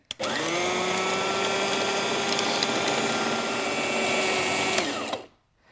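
A kitchen mixer grinds minced meat with onion, salt and pepper into a smooth paste, a loud, steady high whine running continuously for about five seconds before cutting off abruptly.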